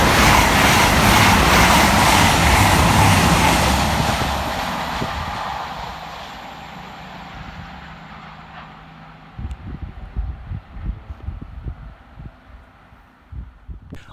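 A pair of CrossCountry Class 220 diesel units, 220013 and 220003, pass fast through Chester-le-Street station with a loud close roar that fades away, then quieter rhythmic wheel clatter.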